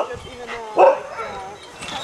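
A blue-eyed husky sled dog gives a short bark during dog sledding in Norway, a single brief close yelp over outdoor noise, with people talking around it.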